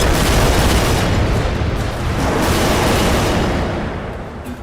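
A grenade blast in a film fills the whole span with a loud, broad roar that rumbles on and slowly fades toward the end.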